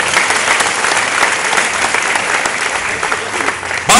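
An audience at a comedy monologue show bursts into loud, dense applause that holds steady for several seconds before cutting off.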